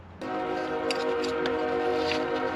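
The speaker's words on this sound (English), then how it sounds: "Does that freight train come through at 5 a.m. every morning?" A freight train rolls past at 5 a.m., close and loud, with a steady rumbling roar and sustained horn tones that hold throughout.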